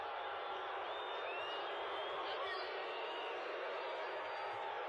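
A 94,000-strong stadium crowd at a concert boos a performer, a dense, continuous roar of massed voices that stays loud and unbroken throughout.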